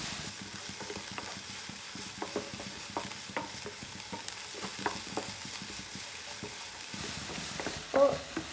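Tomato for samosa filling sautéing in a pan, a quiet sizzle under regular close spatula scrapes and stirring strokes, with a brief louder knock near the end.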